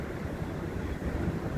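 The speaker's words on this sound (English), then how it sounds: "It's windy on the Columbus side." Wind blows outdoors on a gusty day, a faint, steady low rushing noise with some microphone buffeting and no voices.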